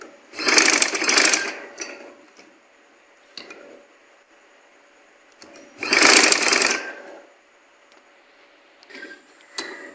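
A sewing machine stitches trouser fabric in two loud whirring bursts of rapid needle strokes, each lasting about a second, with soft clicks and brief quieter runs between them.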